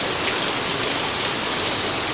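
Very heavy rain roars in a dense, unbroken rush, loud and close, with no voices over the constant downpour.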